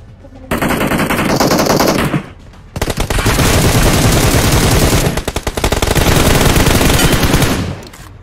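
Dense, continuous automatic gunfire from a BGMI battle fills the scene: loud, rapid bursts with brief pauses around the two- and five-second marks, no voices.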